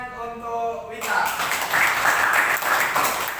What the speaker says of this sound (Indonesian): beri tepuk tangan untuk Wita